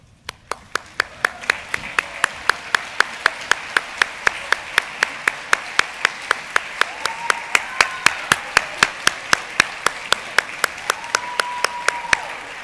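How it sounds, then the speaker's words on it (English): Audience applause at Springdale High School's 2022 spring band concert, heard as a steady, evenly spaced run of sharp claps, almost rhythmic, continuing for the whole stretch over a faint room hum. "please stand so we can give you a huge round of applause"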